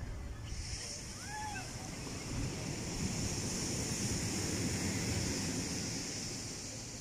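Surf rolls onto a beach lined with coconut palms at Puerto Vallarta, Mexico, as a steady, full wash of breaking waves with wind rushing across the microphone, continuous and fairly loud.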